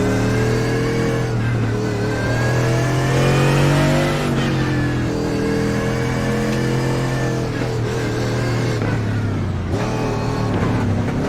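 Race car engines roar loudly and continuously in the iRacing video game at Canadian Tire Motorsports Park, with pitch rising and falling through gear changes as cars pass close by, alone without talk.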